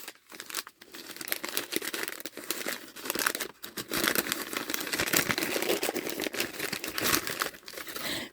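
Paper wrapping is crinkled and torn away from a handmade watercolor palette in a birch bark panel, close and loud, with continuous rustling and tearing broken by brief pauses.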